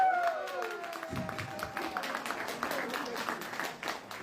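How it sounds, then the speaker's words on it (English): A crowd at a political gathering in Edo State, Nigeria, claps and cheers for a former governor in a sustained burst after a fading tone, with voices mixed into the applause. "What a clap for former governor."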